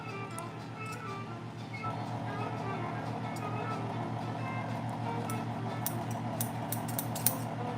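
Old Gingher sewing scissors snip in a sharpening workshop, a series of light, sharp clicking cuts scattered over a steady electrical hum, growing busier toward the end, with no one speaking.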